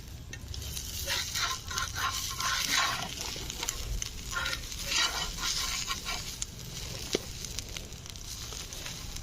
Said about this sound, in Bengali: ডিম ভাজাটা কিন্তু এবারে উল্টাতে হবে, এক পাশটা হয়ে গেছে।